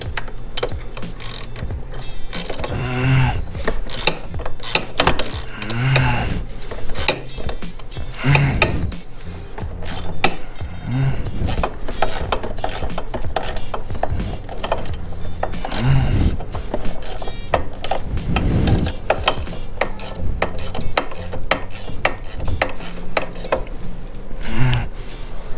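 Sway bar bolts on a Can-Am Ryker are tightened with a ratchet, a steady run of close mechanical clicking with occasional metallic clanks.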